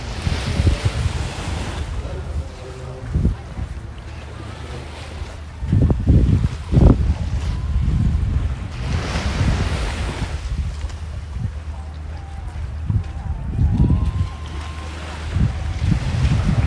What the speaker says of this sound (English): Super clean beach.